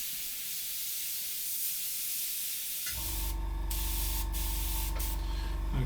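A steady close hiss of an airbrush spraying paint starts midway and runs continuously, with a faint mechanical hum and a few brief breaks in the spray.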